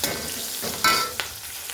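Onion, green chili, cumin, mustard seeds, ginger-garlic paste and turmeric sizzling in oil in a pan, a close, loud crackle broken by a few sharp scraping bursts as the mixture is stirred.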